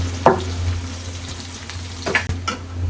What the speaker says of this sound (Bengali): এরপর দিয়ে দিলাম শুকনো মরিচ তেল গরম